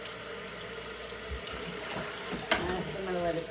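Hot water runs from a tap into a sink where a frying pan is soaking, a steady close splashing flow with a few clinks and a short sharp knock partway through.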